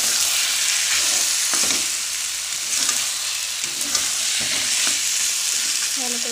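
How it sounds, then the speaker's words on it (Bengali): Soybean curry stir-fried in a pan gives a continuous loud sizzle, with a spoon stirring and scraping at intervals, close up and with no talking. "এবার সয়াবিনটা ভালো করে কষিয়ে নেব।"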